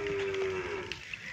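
A Nili-Ravi buffalo at a Pakistani livestock sale gives a single steady low moo lasting under a second, fairly close, with faint ambient noise around it.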